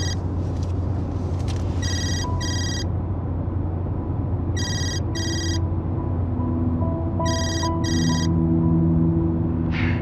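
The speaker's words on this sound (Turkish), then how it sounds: "adamın telefonu çalıyor" A phone rings in repeated double trills over a steady engine rumble, loud and close, with no voices.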